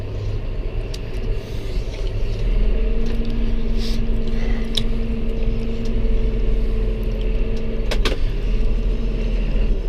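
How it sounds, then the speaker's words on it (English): Running tractor loader on a straw baling job, a loud steady low engine rumble throughout with a faint tonal whine riding over it and a short sharp clank near the end. "Turn the loader on because I need it."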